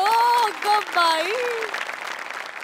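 A comedy show's studio audience breaks into applause. A voice carries over the opening moments, then the clapping swells and continues on its own.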